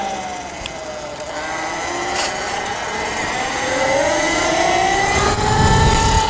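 A Kuberg Freerider electric dirt bike accelerates through mud on a washed-out trail, its motor whine climbing steadily in pitch and growing louder over a rough, close rumble, with no talking.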